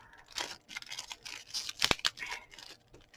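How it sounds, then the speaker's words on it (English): Scissors snip and tear into plastic packaging indoors, a few sharp crisp cuts and crinkles spread unevenly over a few seconds, close and fairly quiet. "Apparently scissors to get into the packaging."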